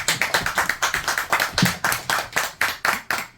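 An audience at a neighbourhood organisation's launch ceremony in Gyeongsan, South Korea, claps to welcome a pastor to the stage. The clapping is loud, close and brisk, with steady rhythmic hand claps several per second and no talking.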